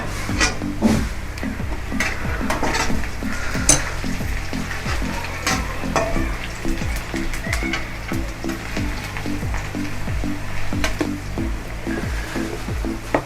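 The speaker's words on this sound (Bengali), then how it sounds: "পেঁয়াজে লঙ্কাটা হালকা করে ফ্রাই করে নেবো" Onion and chili fry in a kadai with a steady, close sizzle. Repeated clinks and scrapes of stirring run through it, and no one speaks.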